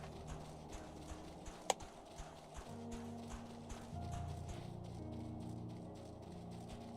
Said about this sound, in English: I feel like I'm hearing Glacius footsteps.